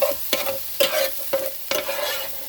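A spatula scrapes and stirs vegan fried rice in an oiled pan, producing several sharp scraping strokes over a steady sizzle, close and fairly loud with no talking.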